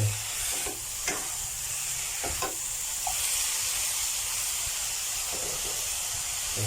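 Vegetables and chicken breast stir-frying in a pan, a soft continuous sizzle with a few light scrapes of a spatula, fairly quiet and without talk.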